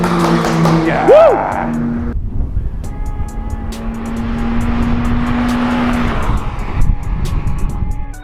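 A 1.7 Ford Puma driven on a race circuit, engine note rising then settling into a steady drone, with tire noise and a passing whoosh, while people talk and cheer over it.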